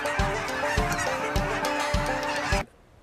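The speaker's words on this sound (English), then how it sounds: "We saw more birds over our head than I've probably ever seen in my life." A huge flock of geese honks overhead during a waterfowl hunt, loud overlapping calls pulsing in a rapid steady rhythm before cutting off abruptly into near silence.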